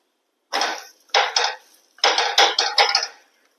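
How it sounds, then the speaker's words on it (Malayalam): Food is flipped in a pan while a simple breakfast is cooked, giving several short, close clattering bursts of metal scraping and clanking with silent pauses between them. "നമുക്കിതൊന്ന് മറിച്ചിടാം."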